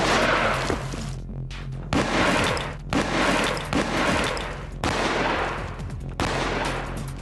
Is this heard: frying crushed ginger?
no